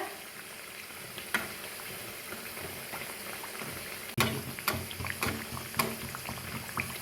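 Whole wheat pithe frying in oil, a constant close sizzle broken by a few sharp clacks and scrapes as pieces are moved and lifted from the pan.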